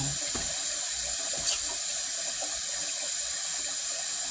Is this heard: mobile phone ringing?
no